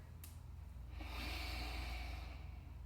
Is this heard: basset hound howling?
no